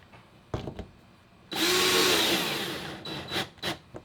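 A power driver sends screws into a GearTrac plate on an Old Town Sportsman kayak: a few short taps and buzzes, then one sustained whirring run of about a second and a half, then a couple more brief bursts.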